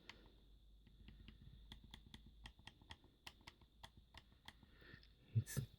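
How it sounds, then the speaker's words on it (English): The plus-shaped D-pad on an Xbox One controller gives a quiet series of sharp, crisp clicks in an irregular rhythm, heard close up against near silence. "It's a plus D-pad, much better than the 360 one, and as you can hear, it's quite clicky."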